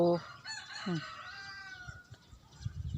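A rooster crows once in a long, drawn-out call, followed by faint rustling background noise.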